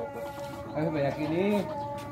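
Free-range village chickens clucking in a group, a mix of short calls and warbling cries rising over a steady hubbub of birds close by.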